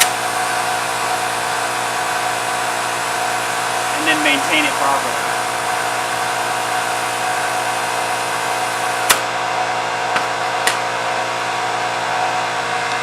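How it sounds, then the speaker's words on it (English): An air compressor drones steadily at close range while inflating a lawnmower tire, with a brief spoken phrase partway through and a few sharp clicks near the end. "the part where I air up the tire on my lawnmower"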